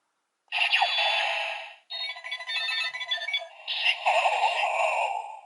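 Mirror World Ridewatch toy from Kamen Rider plays its electronic activation jingle, a bright, warped and distorted melodic tune in three bursts with short gaps between them, close and loud with no voice.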